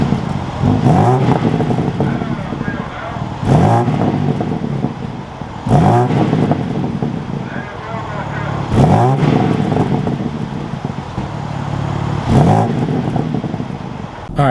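BMW M2 with the B58 engine revving repeatedly, loud bursts rising and falling in a steady rhythm close by, with sharp gear-like shifts between runs.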